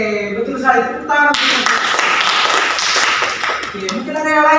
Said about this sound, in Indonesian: Oke, betul sekali. Tepuk tangan.